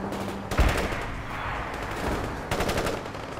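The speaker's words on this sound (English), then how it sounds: "Heavy machine gun tracking the target." Heavy machine gun fire in the World in Conflict video game: rapid bursts of shots with a sharp blast near the start and another burst later over a constant battle rumble.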